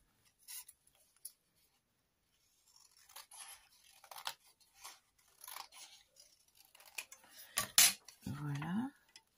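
Scissors cut a rigid backing piece for a window envelope in a series of quiet, close snips and paper rustles, sparse at first and then quicker, with a brief voice near the end.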